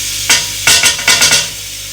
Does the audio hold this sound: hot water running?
no